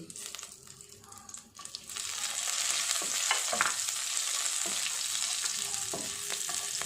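Cloves, peppercorns and a cinnamon stick sizzle in hot oil for capsicum paneer masala, a steady close frying hiss that swells after a soft start, broken by a few scrapes and clinks of stirring.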